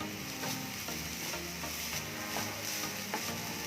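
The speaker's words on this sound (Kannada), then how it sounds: "ಒಂದು ಮೀಡಿಯಮ್ ಫ್ಲೇಮಲ್ಲಿ ಇಟ್ಕೊಂಡು ಕಾಯಿನ ಫ್ರೈ ಮಾಡ್ಕೋತಾ ಇದ್ದೀನಿ" Grated coconut frying in a pan over a medium flame, with steady stirring and scraping against the pan under a soft continuous sizzle, close and moderately loud, no voices.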